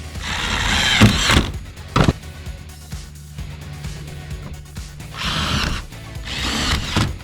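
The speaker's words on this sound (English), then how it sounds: "we're gonna screw that thing in there" A power driver sinks screws into the mounting of a roof ventilation fan on a Sprinter van. Several short, loud whirring bursts are separated by quieter handling noises and clicks, all close by.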